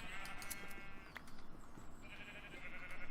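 Sheep bleating inside a modded Minecraft world, a couple of drawn-out synthetic bleats up close over a steady background hum of game noise.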